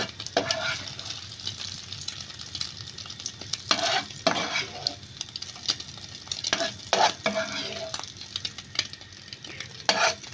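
Scrambled eggs frying in a pan, a soft continuous sizzle broken by repeated scraping and stirring strokes of a utensil against the pan, close and without speech.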